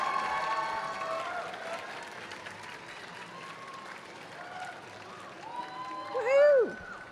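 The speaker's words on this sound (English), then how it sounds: "everyone, give another round of applause for Maddie with their Kittenspike costume." An audience at a cosplay contest applauds, a soft spread of clapping and crowd noise under and after a speaking voice, swelling near the end with a cheer.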